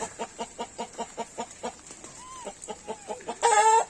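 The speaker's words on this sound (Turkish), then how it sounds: "Burada horozlansın diye bir tavuk atmıştık yanına. Bu tavuk da burada yumurtluyor." A hen kept in a rooster pen gives a regular series of short, evenly spaced clucks close by, broken by a brief rising call and ending in a louder, sustained squawk.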